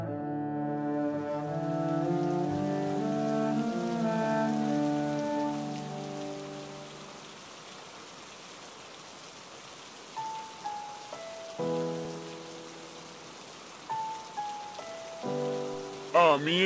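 Rain pours down in a steady, dense hiss on surfaces, first beneath sustained musical tones and then more exposed, with short bursts of a voice breaking in near the end.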